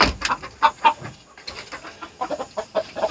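Chickens on a farm cluck in a quick, uneven run of short calls, close and fairly loud, with no talking over them.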